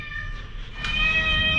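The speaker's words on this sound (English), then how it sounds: "maybe you can hear cat" Cat meowing in a garage workshop beside a homebuilt twin-turbo Audi R8, with a sustained high tonal cry rising in the second half over steady low background hum.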